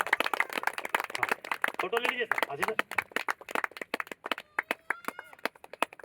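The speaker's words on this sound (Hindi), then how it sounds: "एक बार जोरदार ताली होना चाहिए परिवार के सम्मान के लिए" An audience claps loudly in honour of a family at a shop opening, dense rapid applause running throughout, with people talking over it.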